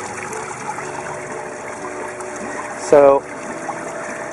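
Aerated water flowing steadily through a pipe back into a deep water culture aquaponics fish tank with tilapia, a constant close wash and trickle, with a brief word spoken over it.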